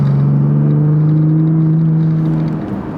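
2024 Ford Raptor with a 3.5 twin-turbo EcoBoost V6 accelerating in normal exhaust mode, giving a loud, steady low drone close up that eases off slightly at the end.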